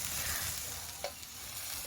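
Bean paste frying in a little oil in a pan, giving a steady soft sizzle throughout, with one brief sharper crackle partway through and occasional stirring.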